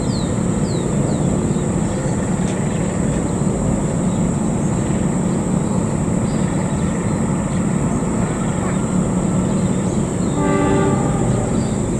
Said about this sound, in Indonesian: keretanya sudah berjalan di jalur utama dan persiapan menuju ke stasiun Cimekar.